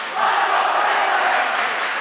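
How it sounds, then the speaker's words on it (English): Two rival student sections trade a loud, sustained chant at a high school varsity boys basketball game between Marine City and St. Clair, a steady roar of massed voices filling the gym. "both student sections doing a little competing cheer"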